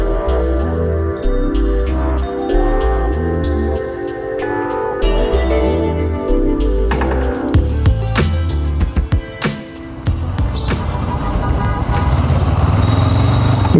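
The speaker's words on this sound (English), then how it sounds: "I hope you got a picture of the traffic here in Bangalore on a Monday" Dense Monday road traffic in Bangalore surrounds a Honda NX500 twin-cylinder motorcycle, with a steady engine drone, horn toots and the rumble of cars, trucks and buses close by throughout.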